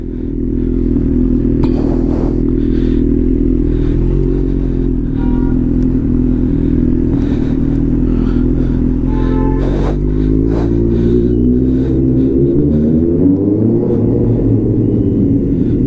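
A motorcycle ridden on a hot day gives a loud, steady, close engine rumble with occasional clatter and scraping, its pitch climbing as it revs near the end.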